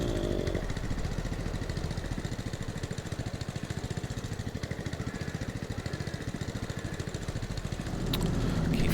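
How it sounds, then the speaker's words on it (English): A tractor or farm vehicle engine idles in Farming Simulator 22 on a flat Dutch farm map, a steady loud chugging rumble with rapid regular pulses, swelling slightly near the end. "Again, I'm trying to switch the engine off,"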